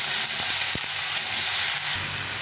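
Vegetables and small morola fish with turmeric fry in a pan after a light sprinkle of water, producing a dense, continuous close-up sizzle broken by a few soft stirring knocks.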